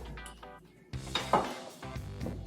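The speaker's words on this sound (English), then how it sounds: "we have a saute pan here on the heat, and it's hot to the touch. We're gonna add some olive oil" Olive oil hits a hot sauté pan with a short clatter of metal, then a soft sizzle spreads and lingers close by, quiet and brief.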